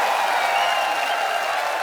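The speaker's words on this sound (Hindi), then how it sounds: "जोरदार तालियां" Studio audience applauding on a Hindi comedy talk show, a dense, even wash of clapping from a large crowd that holds steady for about two seconds without speech.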